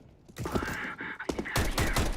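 Sniper rifle fire in Counter-Strike (CSGO) gameplay, with several sharp, loud cracks and bursts in quick succession amid other in-game noise.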